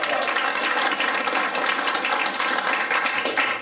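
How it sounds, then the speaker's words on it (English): A crowd claps and cheers in a steady, dense burst of applause for a group helping make Santa Cruz a constitution protection zone, loud and continuous throughout with no talking over it. "Give them a round of applause."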